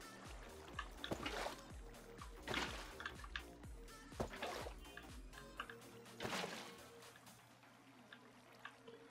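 Minecraft water leaking as a continuous trickle beneath intermittent clicking and tapping game noises, fading near the end.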